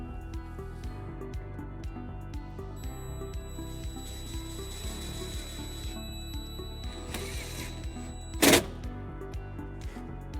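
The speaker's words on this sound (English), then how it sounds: "we're going to ground it using this provided self-tapping screw" A ratchet with a 1/4-inch socket drives a self-tapping ground screw while trailer wiring is installed on a 2019-2025 Toyota RAV4. It gives a steady run of quick, close clicks, with one louder, harsher burst near the end.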